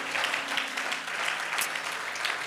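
A church congregation applauds during a Sunday worship service, with steady, dense clapping that runs unbroken at even loudness from start to finish.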